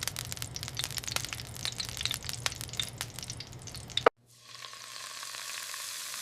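Oil sizzles in a hot pan before a beef steak goes in, a crackling frying hiss with scattered pops, then an abrupt cut to a smoother, softer sizzle.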